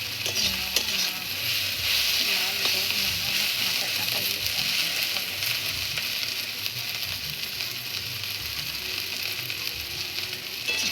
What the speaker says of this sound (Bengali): পেঁয়াজটাকে পুরো লাল করে ভেজে নিতে হবে